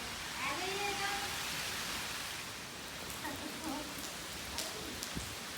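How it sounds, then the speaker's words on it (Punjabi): Heavy downpour outdoors while saplings are being planted: a dense, loud, unbroken roar of rain, with a person's voice faintly audible beneath it at moments. "ਪੂਰਾ ਐਨ ਜ਼ੋਰਾਂ ਸ਼ੋਰਾਂ ਤੇ ਮੀਂਹ ਪੈ ਰਿਹਾ ਹੈ"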